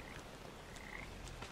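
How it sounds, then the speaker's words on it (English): Frogs croak in the video game Papo & Yo, a soft, steady chorus of quick repeated croaks in the background, with no talking. "Here are some frogs."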